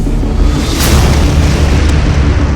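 A loud, deep explosion booms in a dramatic scene, a heavy rumbling roar that fills the clip with sustained low-frequency energy and a bright burst near the start.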